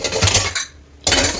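Pots and dishes piled in a kitchen sink after cooking mutton biryani clatter loudly up close, two bursts of metallic clanking separated by a brief quiet gap.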